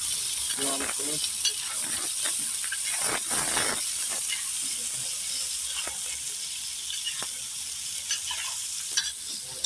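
Meat fries in a pot for Uzbek plov with a steady, close sizzle, broken by clattering scrapes of a utensil stirring. No one speaks.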